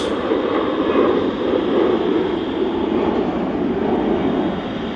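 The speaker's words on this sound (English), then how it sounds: "Do have this Aer Lingus A380 coming in from Orlando." On short final into Manchester, an Aer Lingus airliner from Orlando sends a loud, steady jet roar that holds close by, easing slightly near the end, with no one speaking over it.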